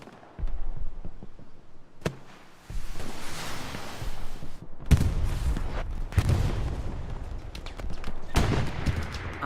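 Machine-gun fire in the World War II shooter Hell Let Loose, from a gunner holding a lane, comes as long rattling bursts broken by short pauses, mixed with louder booming shots and heavy battlefield rumble, with no voices.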